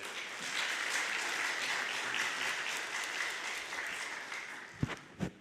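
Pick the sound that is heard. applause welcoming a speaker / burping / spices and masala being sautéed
applause welcoming a speaker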